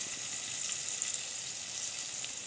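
Tempering (vaghar) sizzling in hot oil in a home kitchen, a steady bright hiss that crackles lightly throughout with no voices.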